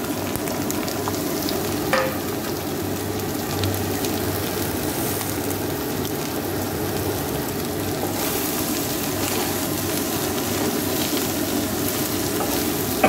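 Spices frying in a pan before onions go in, a continuous loud crackling sizzle up close with occasional stirring scrapes throughout.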